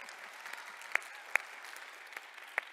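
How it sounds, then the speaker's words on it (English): Audience at an academic session applauding a young forestry student, a thin, distant patter of scattered hands with a few sharper individual claps standing out, fairly faint in a quiet room. "you can applaud her if you like"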